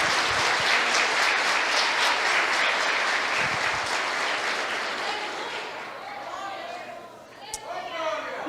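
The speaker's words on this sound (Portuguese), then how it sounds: "Aplauda o Senhor aí." A church congregation claps together during a sermon, dense applause that gradually fades after about six seconds, leaving a few scattered sounds and faint voices.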